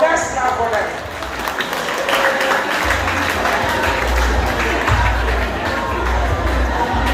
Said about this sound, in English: Oh, let's clap for them.